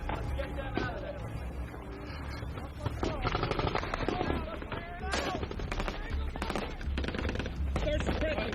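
Suppressing gunfire from soldiers in combat against Taliban fighters surrounding them in Afghanistan, dense bursts of rifle and machine-gun fire rattling continuously and loudly, with shouted voices mixed in.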